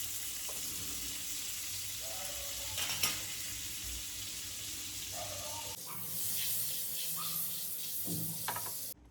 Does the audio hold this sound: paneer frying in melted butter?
yes